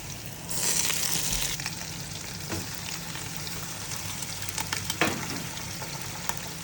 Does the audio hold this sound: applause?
no